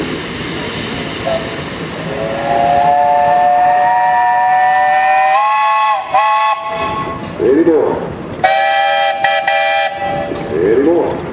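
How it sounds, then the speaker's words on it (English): A steam traction engine whistle blows in long sustained blasts, pausing briefly between them, loud and fairly close over outdoor crowd noise at a steam threshers show. "we have a whistle on that engine."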